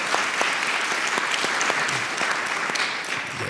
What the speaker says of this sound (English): Yes, you can clap it up for her.